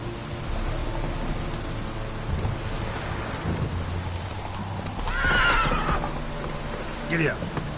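A horse gallops through a rainy scene in The Witcher 3, hooves drumming under steady rain and rumbling thunder, with a sharp neigh rising near the end.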